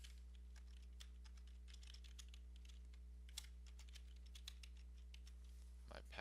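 Light, irregular keystrokes on a computer keyboard enter an email address during an account sign-in. The tapping is soft and close over a steady low electrical hum, with a brief burst of sound near the end.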